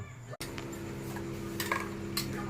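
A pan set down on a stove with oil poured in while cooking an omelette, a brief metallic clunk followed by steady low clinking and a faint continuous hiss.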